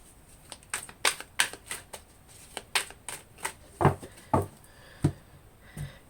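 Tarot and oracle cards are shuffled by hand in a series of crisp, close riffling bursts at an irregular rhythm, each a short papery flutter, with no talk.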